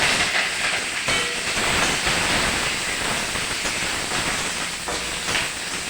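Curry leaves, dried red chilli and mustard seeds sizzling in hot oil in a wok, a loud steady crackling hiss close by that persists throughout with no talk.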